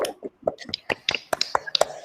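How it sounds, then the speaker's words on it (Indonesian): Small class giving a group of presenters a quick, ragged round of clapping during a peer-teaching lesson, with sparse, uneven individual claps and snaps at close range rather than a full ovation. "Tepuk tangan buat kelompok"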